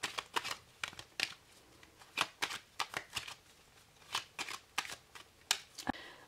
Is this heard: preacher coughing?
no